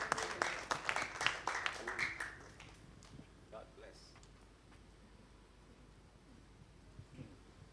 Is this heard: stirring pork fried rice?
no